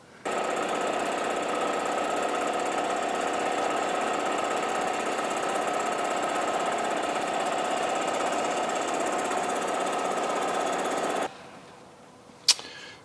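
A machine tool makes a final 3mm-deep cut into a metal part for a Webster engine, giving a loud steady grinding whine for about eleven seconds before the cut ends, then quiet with a single sharp clink.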